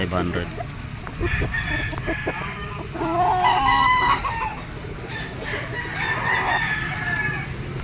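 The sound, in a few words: gamefowl roosters crowing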